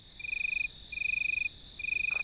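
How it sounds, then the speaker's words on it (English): Crickets chirp steadily in close, regular pulsed trills, with a faint sound near the end and no voices. "Crickets."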